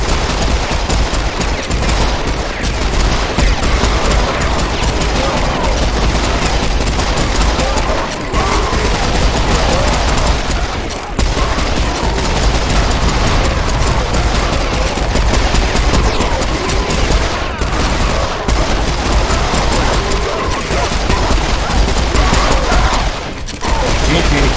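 Relentless gunfire in the shooter Serious Sam 4: loud, near-continuous automatic fusillade with mechanical clatter and occasional booms for over twenty seconds, with brief dips between bursts.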